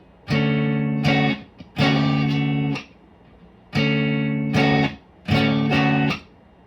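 A distorted electric guitar plays a short repeated chord phrase on the 2nd, 3rd and 4th strings, four sustained bursts with brief gaps between them, clear and up close.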